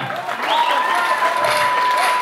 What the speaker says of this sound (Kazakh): Қол шапалақ, үйленген тойы!